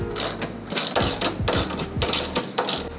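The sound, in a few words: socket ratchet tightening coilover top bolts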